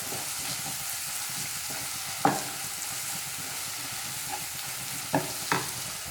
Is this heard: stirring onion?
yes